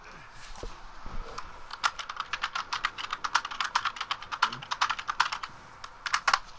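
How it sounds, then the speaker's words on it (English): Fast typing on a computer keyboard sounds close and clear, with dense bursts of key clicks in an uneven rhythm, brief pauses between runs, and faint background noise. "You're typing something."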